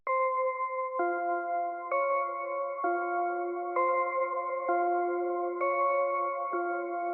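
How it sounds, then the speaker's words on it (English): Synth bells from a Hive 2 AZ Lullaby preset play a steady chiming melody, sustained bright tones changing pitch roughly once per second, clear and loud with no other sounds. "The VST I use for these bells comes from Hive 2. I use the AZ Lullaby preset."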